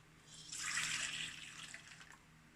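Warm milk at about 111 degrees poured into a bowl for a cheese loaf dough, a steady splashing stream of liquid that swells and then eases off over a couple of seconds, close and fairly quiet, with no talking.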